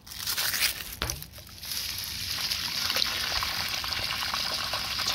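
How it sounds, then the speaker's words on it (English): Dirty water from the recovery tank of a carpet cleaning machine, left over from cleaning a very old blue carpet, being dumped out. The gush starts with a splash and becomes a steady, loud pour that runs on without a break. "Final water dump."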